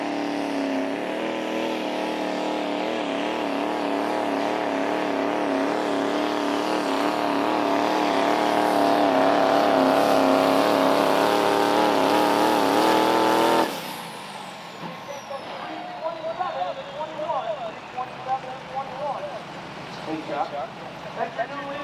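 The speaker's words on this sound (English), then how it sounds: "I think it went a little better in that truck than your other one, AJ." A pulling truck roars at full throttle during a truck pull in Paw Paw, Illinois, a loud, sustained, wavering engine drone that cuts off sharply near the end, followed by crowd noise and an announcer speaking over the grounds.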